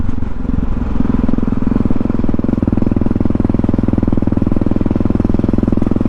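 A motorcycle ridden along a road drones loudly and steadily, its engine throbbing evenly close to the microphone for the whole stretch with no talking.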